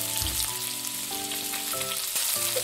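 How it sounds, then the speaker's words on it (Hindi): Finely chopped onions with ginger and garlic paste frying in a pan for green pea dal, a steady close sizzle running throughout with faint tonal hums above it. "अब इसे अच्छे से भून लेंगे।"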